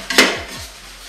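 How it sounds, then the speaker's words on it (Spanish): A metal pot or pan clanks once, loud and close, while beef oxtail is being fried for a stew. A soft ringing hiss trails off after the clank. "Aquí cocinando un estofado de cola de vacuno, friendo la carne primero para que tome su color"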